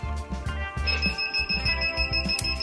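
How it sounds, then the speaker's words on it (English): A high electronic beep from a VEVOR 15x15 heat press timer sounds continuously over a rhythmic mechanical thumping, fairly quiet and close. "Okay, there's the beep."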